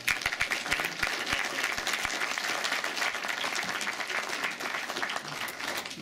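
Audience at an entomology talk applauding everyone present, a few sharp separate claps at the start building quickly into a steady wash of many hands that continues throughout at moderate level.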